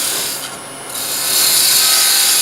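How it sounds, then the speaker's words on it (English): A 3/8 spindle gouge cuts a gentle taper into wood spinning on a lathe for a lidded ring box, giving a continuous close, hissing scrape that grows louder toward the end. "take the 3/8 spindle gouge. You'll see I've got 2 steps, and I'm just going to very gently cut this back on a little bit of a taper"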